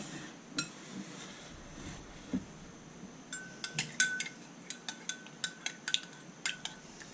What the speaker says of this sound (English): I'm going to mix this up with the dressing